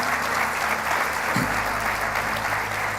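Steady, dense applause from a large church congregation, loud and continuous throughout.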